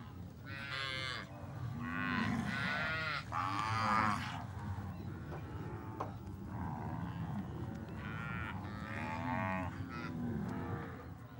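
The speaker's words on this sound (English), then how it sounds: "They board the cattle on the Paraguay River." Pantaneiro zebu cattle moo repeatedly while being loaded aboard on the Paraguay River, several long, wavering calls overlapping over a steady low background rumble, fairly close and without talk.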